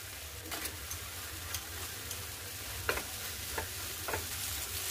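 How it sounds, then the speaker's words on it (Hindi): Cashew paste stirred and roasted in a pan for shahi paneer, a steady low sizzle with soft scraping strokes of a spoon at irregular intervals, close and continuous, no voices. "अच्छे से आप मिलाते हुए इसे 2 से 3 मिनट भून लें"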